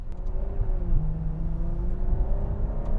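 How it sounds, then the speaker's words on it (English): Ferrari 812 Superfast engine runs at a steady, deep rumble with a faint rising whir over it, close and continuous, with no talk. "let's listen to the engine note, because that's one of the key things."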